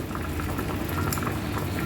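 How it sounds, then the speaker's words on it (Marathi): Water with corn kernels boils in a pot on a gas stove, a steady close bubbling and rumbling that is low and even throughout, with no voices. "हे पाण्याला उकळी आलेली आहे"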